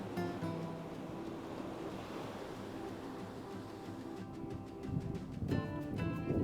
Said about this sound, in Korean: 파도 소리만 가득한 깊은 매력의 속초 겨울바다